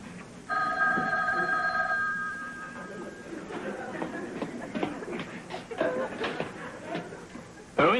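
A telephone rings twice in a sitcom household, bright trilling bursts in the first seconds, followed by shuffling movement and voices speaking.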